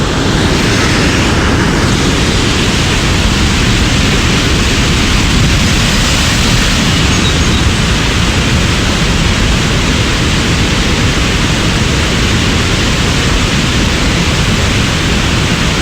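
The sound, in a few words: waterfall rushing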